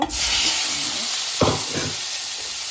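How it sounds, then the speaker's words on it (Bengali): Eggs frying in hot oil with spices make a loud, constant close hiss and sizzle, with a brief scrape or stir partway through and no voices. "আমি ডিম এখন একটু ভেজে নিব তেলের মধ্যে"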